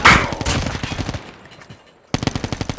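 Rapid bursts of automatic gunfire ring out in the video game Call of Duty Mobile, a loud rattling stream that fades away briefly before a second sharp burst resumes.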